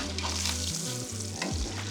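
Raw steak searing in a pan with butter and garlic, a close steady crackling sizzle with a low rumbling hum underneath.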